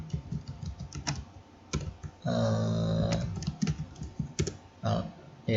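Quick bursts of close keystrokes come from a computer keyboard as a shutdown command is entered, with a short pause and a brief electronic tone partway through.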